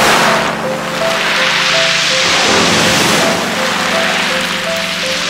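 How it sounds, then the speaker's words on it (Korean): Waves wash continuously over a pebble beach on Jeju, a broad, loud hiss of surf rising and falling in steady surges. "바람 소리, 파도 소리, 그리고"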